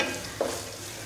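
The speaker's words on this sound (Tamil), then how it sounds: "வெங்காயம் சேர்த்து கொஞ்ச நேரம் நல்லா வதக்கிடுங்க." Onions sautéing in hot oil for a coconut-style chutney: an even sizzle holds steady, with a single brief stir or scrape near the middle; close and moderately quiet, with no talking.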